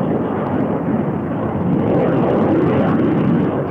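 An F-14 fighter jet in flight gives a dense, steady roar of engine noise, loud and continuous for a few seconds with no voices.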